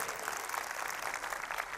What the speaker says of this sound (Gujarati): એકવાર જોરદાર તાળીઓ થવી જોઈએ